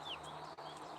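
Chickens, including leghorns, cluck faintly in the distance as they go in to roost at dusk, with soft scattered bird calls over a low steady background hum.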